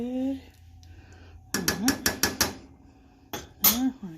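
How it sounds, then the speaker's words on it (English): A spoon knocks repeatedly against the side of a pot of beef bourguignon in a quick run of five metallic clinks, followed after a pause by two more, with faint kitchen handling around them. "now we're going to stir it up just a little bit."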